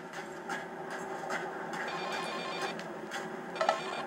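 A phone rings in the video game Silent Hill Shattered Memories, a repeating electronic trill pulsing in short bursts at moderate volume, with no talking.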